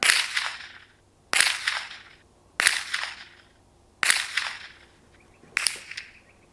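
Five sharp rifle shots at a steady pace, each a crisp crack fading into a short echo, fired at a range while sighting in a Leupold VX-5 HD 3-15x44 scope, with one round sounding underpowered.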